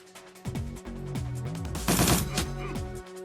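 Short bursts of SMG fire from the video game Shadowrun Returns crackle in a rapid rhythm over game sound effects, with one heavier cluster of shots near the middle of the clip.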